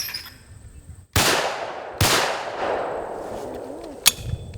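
Two sharp, loud shotgun blasts at clay targets about a second apart, each followed by a ringing decay, then a softer metallic click near the end.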